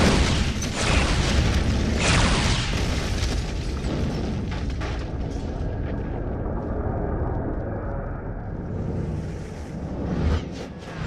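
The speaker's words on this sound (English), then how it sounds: "Our phasers will collapse these walls." Star Trek phaser fire brings down walls in a heavy explosion, a deep booming rumble that is loud at first and then rolls into a long, fading crash of debris.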